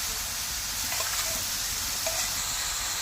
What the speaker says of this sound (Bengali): এবার ভালোভাবে নাড়িয়ে চাড়িয়ে মিশিয়ে নেবো